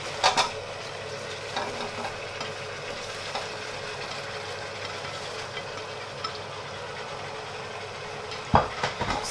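Pancit canton noodles with vegetables and Chinese cabbage are stirred in a pan, giving a steady low frying sizzle with soft scraping and a few sharp utensil knocks near the start and end.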